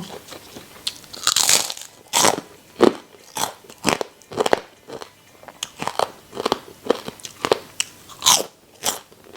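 Crispy pork rinds are bitten and chewed close to the mic, with sharp crunches and crackles repeating steadily over several seconds between quieter chewing.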